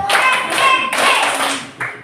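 A fifth-grade class of children claps a counted pattern in an Indonesian classroom, bursts of quick clapping near and loud, briefly pausing between groups.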